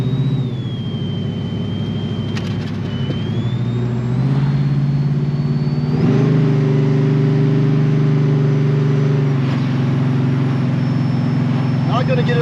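A 1969 Chevrolet Camaro restomod with a 427 engine drives along, its loud, steady engine drone rising and shifting a few times in a continuous close-up roar.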